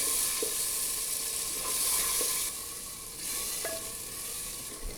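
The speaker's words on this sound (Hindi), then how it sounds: "टमाटर को हम प्याज के साथ 1 मिनट तक भून लेंगे।" Steady sizzling of tomatoes and onions frying in a pan, with occasional faint clinks of a utensil stirring, continuous and moderately close.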